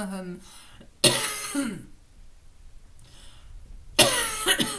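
A woman coughs and clears her throat in sharp, close bursts, two loud episodes separated by a quiet pause, with a brief trace of her voice at the start.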